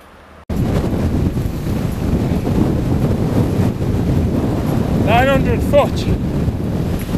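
Strong wind buffets the microphone loudly and continuously while cycling uphill into a headwind over Shap, with a brief high squeak near the end.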